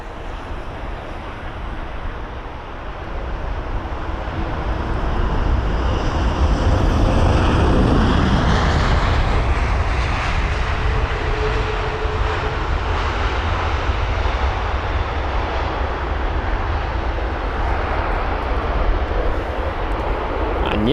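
An American Airlines Boeing 777-200ER on flight AA734 at London Heathrow gives a loud, sustained jet engine roar that swells over several seconds and then holds steady and broad, with some wind buffeting on the microphone.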